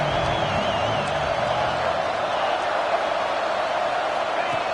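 Stadium crowd noise from the College Football 26 video game during a red zone defensive stand, Tennessee against Ole Miss, a steady wash of cheering under a commentator's voice.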